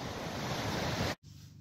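Full-torrent river rushing on Dartmoor, a loud, dense broadband roar that holds steady and close, then cuts out abruptly near the end before a quieter, thinner rush resumes.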